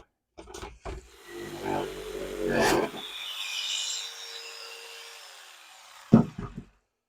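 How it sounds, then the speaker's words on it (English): A jigsaw cuts into the wood of an old birdhouse being restored, starting with a few short bursts before a sustained rasping buzz that stops abruptly, followed by a sharp knock near the end. "And I think that would best be done with a jigsaw."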